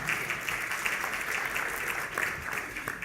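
Audience at the Foreign Press Association Media Awards applauding an award nominee, a steady, even wash of clapping from a crowd, moderately distant and without speech.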